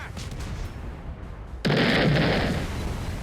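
Naval gunfire in the World of Warships video game during a Z-52 tier 10 destroyer battle, a sudden loud booming salvo that swells and rumbles on after a quieter lead-in.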